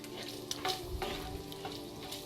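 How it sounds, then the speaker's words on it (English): Bacon frying in a pan, a steady, faint sizzle with occasional stirring scrapes and small pops, close and without talk. "what I'm going to do is I'm going to finish cooking the bacon"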